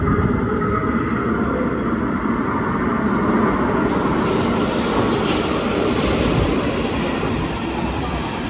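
A train sits at a station while a rider boards carrying a folded scooter, with a steady, loud rumble of rail cars and wheels filling the space continuously, and no voices.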